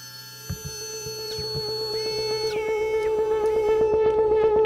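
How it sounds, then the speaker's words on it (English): A Gamechanger Motorsynth, a noisy unit, runs at high oscillation: a steady electronic tone with rapid mechanical ticking pulses and pitches sliding upward, growing louder and busier over several seconds, with no voices. "But in high oscillation,"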